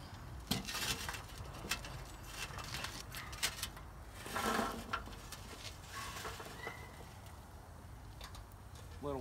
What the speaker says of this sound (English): let's get these coals dumped out onto our Dutch oven table